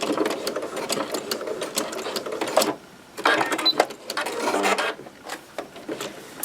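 Sewing machine back stitching a quilted bag: quick bursts of rattling stitching that stop and start again in short runs, with brief pauses between the forward and reverse passes.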